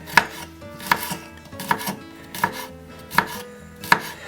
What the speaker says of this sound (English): Now chop this up as finely as you can